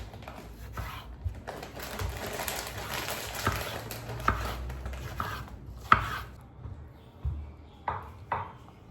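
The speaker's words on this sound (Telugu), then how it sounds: "రమేష్ కూరగాయలు కట్ చేస్తున్నాడు." Vegetables being chopped with a knife in a room kitchen, a series of close, uneven chopping knocks with occasional sharp clinks, amid light background noise and no talk.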